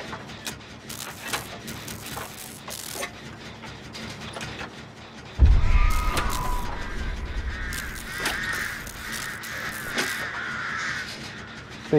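Crows caw repeatedly in the horror video game Dead by Daylight, harsh calls over a mechanical clatter, with a loud burst of flapping and cawing midway that then continues over a steady background.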